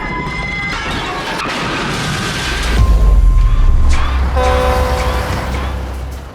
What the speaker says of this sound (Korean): 그때 들어오는 열차.